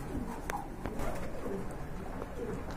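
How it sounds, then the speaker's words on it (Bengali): Soft pigeon coos repeat at close range in a pigeon market, against a steady background of low rustling, with a few brief higher chirps scattered through. "আরেক জোড়া কবুতর দেখতে পাচ্ছেন"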